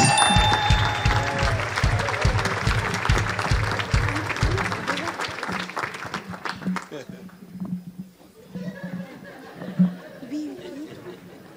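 An audience at a surprise birthday celebration applauds and cheers, with dense clapping that thins out over several seconds into scattered claps, laughter and chatter, while a voice talks over it.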